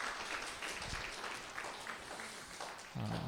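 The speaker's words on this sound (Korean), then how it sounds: "우리 큰 박수로 좀 환영해 주시면 감사하겠습니다." A church congregation claps in welcome for visiting members during a worship gathering; moderate, steady applause continues throughout, with a short tonal sound appearing at the very end.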